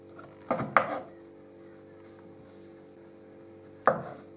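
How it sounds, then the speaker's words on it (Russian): A knife chops a banana on a cutting board, with two quick close taps near the start and one more near the end, sharp and distinct against a quiet kitchen background. "Нарезаем банан"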